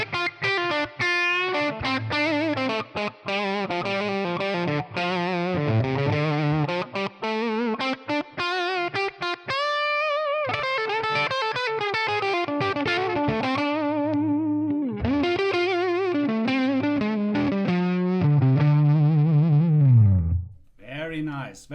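A Les Paul electric guitar runs through a distorted ToneX amp model with reverb added, playing sustained melodic lines and held notes up close, with a short pause midway and a ringing tail at the end.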